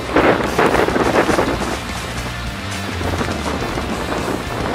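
Strong wind buffets the microphone outdoors at a firearm shooting test of Humvee glass, a loud rumbling roar that gusts hardest at first, then eases into a steady blustery whoosh, with no voices.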